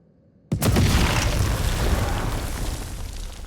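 A loud explosion suddenly erupts and rumbles on as a sustained roar, collapsing a tunnel in the video game House of Ashes.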